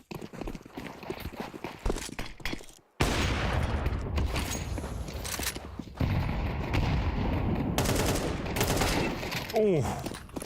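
Rapid gunfire bursts from Counter-Strike rifles during a professional esports match, dense and continuous with a brief gap near the three-second mark and a few quieter moments, loud throughout.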